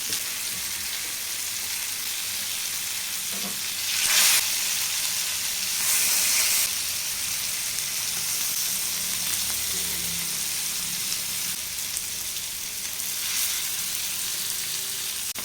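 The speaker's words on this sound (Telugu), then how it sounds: "చేప ముక్కలు ఒక సైడ్ అయితే ఫ్రై అయిపోయాయి ఇంకో సైడ్కి అయితే తిప్పేద్దాం" Fish pieces frying in hot oil, a steady close sizzle and hiss throughout with occasional louder bursts as pieces are stirred or turned.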